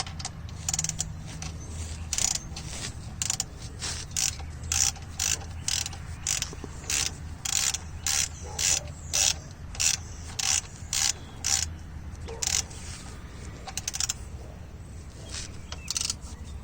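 A ratchet clicks in a long, regular series of sharp ticks, tightening the oil drain plug on a 1997–2001 Toyota Camry, close and clear with a low background hum.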